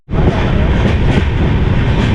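A train runs on rails as it approaches a village on the way to Nepal. The close, loud rumble and rattle begin abruptly and continue steadily without a break.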